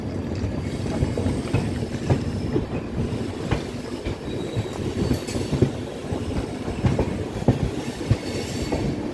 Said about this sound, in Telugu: తాడేపల్లిగూడెం స్టేషన్ నుండి అయితే మన ట్రైన్ అయితే బయలుదేరిపోయింది